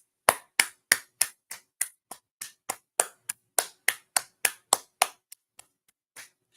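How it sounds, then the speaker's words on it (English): About twenty sharp, evenly spaced hand claps from a single person, close and crisp, slowing and thinning out toward the end with no other sound. "Let's give her a round of applause."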